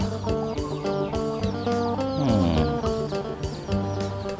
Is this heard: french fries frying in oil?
no